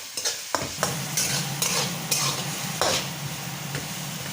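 Chicken curry masala sizzles and fries in a pan while a spoon stirs and scrapes it, with several sharp scraping strokes standing out over a steady loud hiss.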